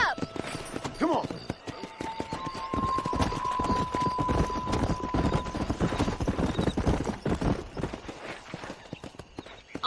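Rhythmic hoofbeats of a horse ridden in the Red Dead Redemption video game, steady clip-clop throughout with game dialogue and music over it.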